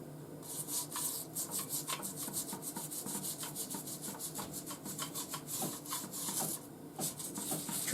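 A toothbrush scrubs a wet part of a Lionel 224 toy train engine in rapid back-and-forth strokes, a close, busy rasping with rhythmic bristle swishes and light water flicks, heard alone.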